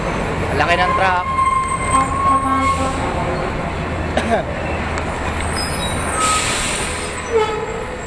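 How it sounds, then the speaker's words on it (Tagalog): A large truck passes on a road during a motorcycle group ride, its rumble and hissing air brake mixed with engine drone and honks, while people talk over it. "Ang laki ng truck."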